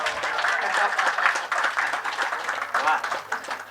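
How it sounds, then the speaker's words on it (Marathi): An audience at a state-level poetry gathering in Pune breaks into sustained, dense applause, many hands clapping together in a hall, with voices mixed in. "इतका जोरदार टाळ्या वाजवा की जोशालासुद्धा जोश आला पाहिजे"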